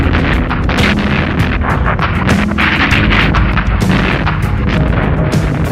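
Rapid, repeated booms of cannon fire from sea and land overlap in a dense barrage on the city of Surabaya in 1945, loud and continuous for several seconds.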